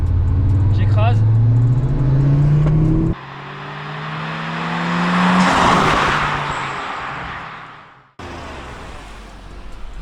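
Audi RS3 and Mercedes-AMG A45S launching together from about 30 km/h in third gear at low revs, engine roar building loudly and rising in pitch, with a cut and a second rising pass, voices heard over it.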